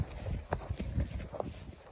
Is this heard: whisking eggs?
no